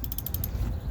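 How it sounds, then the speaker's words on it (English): An electric wrench whirs and ratchets in a quick mechanical burst as it loosens a bolt on a car windshield, close and fairly loud. "Take my electric wrench here."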